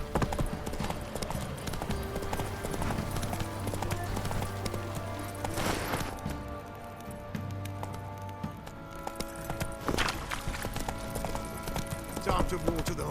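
Horse hooves clip-clop at a steady rhythm on the ground in The Witcher 3, loud and close, with a stable setting and a faint patter like rain behind; a voice speaks briefly partway through.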